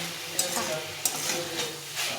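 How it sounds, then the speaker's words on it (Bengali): Mustard greens sizzle steadily in a hot pan as a spatula stirs them, with a few sharp scraping strokes against the pan over a continuous crackling fry. "একটু ভাজে ভাজা করে নিতে হবে"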